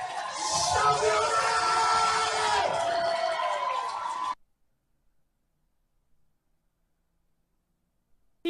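Cheering crowd at a Donald Trump campaign rally, a loud, steady roar of many voices and whoops lasting about four seconds before cutting off abruptly to silence.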